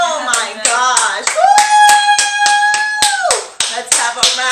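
Family members clap hands in a few sharp, evenly spaced claps at a home table, with voices talking and exclaiming over them. Partway through, a high sustained cheer-like voice rings out above the claps.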